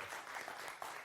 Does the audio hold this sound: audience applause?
yes